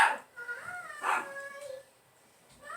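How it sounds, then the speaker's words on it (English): A dog barks and whines in a home, producing a few short, high yelping barks with whimpering tones in between, fairly close and moderately loud. "barking in the background"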